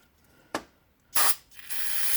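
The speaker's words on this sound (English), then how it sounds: "we're going to simply spray the inside of the carburetor" Short hissing bursts from an aerosol can of carburetor cleaner sprayed inside an air-cooled VW IDF carburetor, close and fairly loud, ending in a longer continuous spray.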